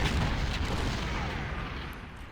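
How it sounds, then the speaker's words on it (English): Rifled cannons fire in a strategy video game, a dense, continuous rumble of booming shots that fades slightly over a couple of seconds, with no speech. "I'm bringing up all my rifled cannons to help fire at theirs"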